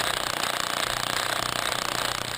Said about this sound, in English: What I'm using here is called dry core drilling, and it does take a bit longer than wet core drilling.